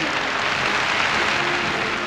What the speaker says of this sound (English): thunderous applause marks the end of Hitler's speech and echoes through the Gustloff